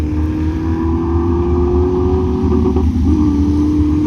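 A jet dragster at a drag strip gives off a loud, sustained engine roar with a steady droning whine that holds nearly constant, close and dominant, with no talking over it.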